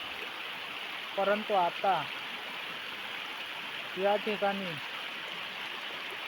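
A river in the Konkan region, at a spot where clothes are washed, flows with a steady, rushing wash of water that runs unbroken through the whole stretch while someone talks over it in two short bursts.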